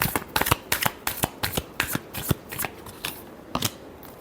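Tarot cards being shuffled by hand in a quick riffle-like series of crisp papery flicks and slaps, about a dozen bursts in steady rhythm, close and clear with no talking.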